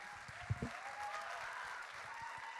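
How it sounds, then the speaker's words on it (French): Steady audience applause at a regional student talent show finale, a dense wash of clapping that holds evenly for a couple of seconds with a few brief louder claps near the start. "Applaudissez-vous."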